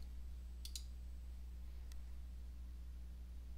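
A few sharp, faint mouse clicks over steady low hum, two close together near the start and one more a second later, while working in scorecard software.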